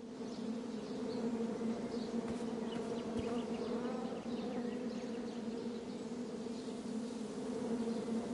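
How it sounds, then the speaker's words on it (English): A beehive buzzes in a King's Quest video game scene, a steady, even drone of many bees swarming with a few brief clicks, heard alone without talk. "Shame about that buzzing beehive"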